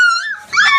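A young, toothless dog gives a single short, high-pitched whimpering yip, close and loud, with no other sound around it.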